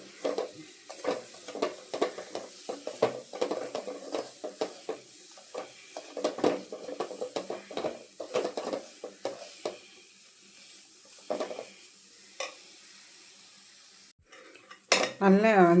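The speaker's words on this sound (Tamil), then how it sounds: "இப்போ நல்லா கெட்டிப்பட்டு வருது கிளறிட்டே இருக்கும்போது." A spoon scrapes and clinks in a pan as thickening soy milk powder peda mixture is stirred, in quick irregular strokes that fade near the end before a brief louder clatter.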